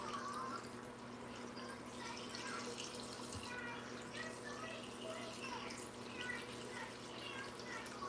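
Tap water runs into a glass in a home kitchen during breakfast preparation, a faint, steady, even hiss of flowing water that continues without a break.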